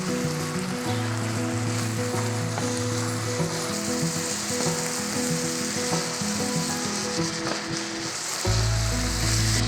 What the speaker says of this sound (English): Just give these eggs another stir.